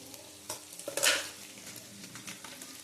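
Tomatoes stirred and frying in a pan for a katla fish curry, with soft sizzling throughout and a brief scraping burst of stirring near the middle.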